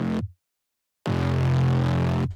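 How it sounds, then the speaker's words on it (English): Two dry, heavily distorted brass synth stabs from an electronic dance track: a short hit that cuts off, a pause, then a longer sustained stab, loud and alone. "Another brass stab."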